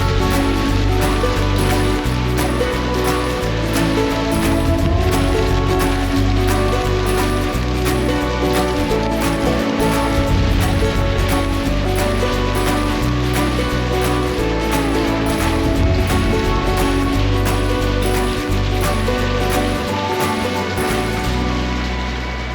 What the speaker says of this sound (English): The rain moved through quickly,